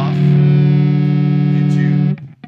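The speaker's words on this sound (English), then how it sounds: "That kind of distortion you get with the two strings interacting." A bass guitar with Cycfi quadraphonic pickups plays two strings together. The strings interact to give a loud, buzzing, distorted sustained tone that holds for about two seconds before cutting off.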